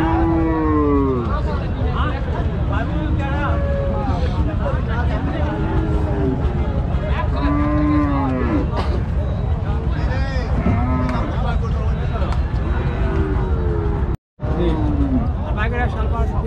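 Cattle and bulls at a crowded Panchbibi livestock market moo repeatedly in long, loud calls, near and far, over constant crowd chatter and bargaining voices.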